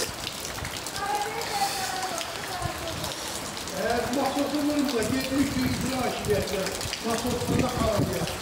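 Heavy rain pours onto a flooded street in Khirdalan, a continuous close hiss and patter of drops on water running beneath people talking throughout.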